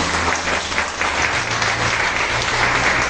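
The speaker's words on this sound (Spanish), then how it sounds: "Denle un aplauso al Señor" A church congregation applauds the Lord, with loud, sustained clapping from many hands filling the room evenly throughout.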